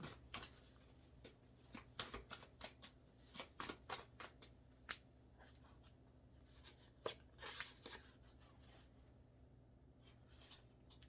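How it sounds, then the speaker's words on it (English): Tarot reading cards being shuffled by hand, a string of soft, close riffling and slapping bursts in irregular clusters with short quiet gaps between them. "Just going to shuffle these up a little bit"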